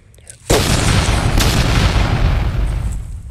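In a video game, a bomb disguised as a stick explodes with a sudden loud boom that rolls on as a sustained, dense roar for several seconds.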